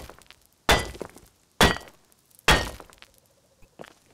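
Axe striking a wall in the video game Rust: three sharp, loud impacts spaced about a second apart, each with a crunching, glassy ring that decays quickly into near silence, then a faint softer knock.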